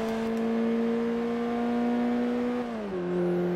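A Golf R on the Nordschleife in Forza Motorsport 3 holds a steady engine drone, then the pitch drops sharply on a downshift or lift and settles lower, close and continuous.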